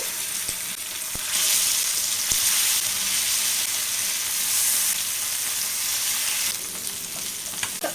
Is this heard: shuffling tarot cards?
no